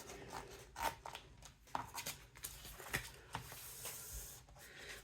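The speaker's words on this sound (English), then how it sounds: "And I'm going to cut this one" Quiet snips and rubbing scrapes of scissors cutting through folded cereal-box cardboard, several short irregular cuts close up with no talking.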